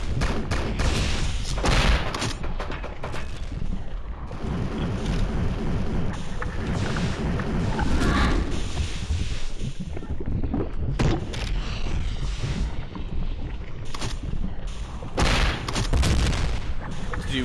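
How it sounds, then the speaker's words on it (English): Gas grenades detonating into a large fire explosion in the video game Hedon, a long run of heavy booms and crackling blasts, loud and dense, with repeated thumping bursts that keep coming over seventeen seconds. "Do a large fire explosion, as you can see."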